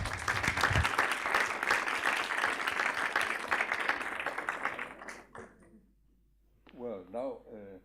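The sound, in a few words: applause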